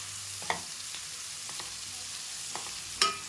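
Chopped onion and green chilli frying in a pan for paneer butter masala, a quiet, steady sizzle with a few soft scrapes and knocks of a stirring spoon against the pan.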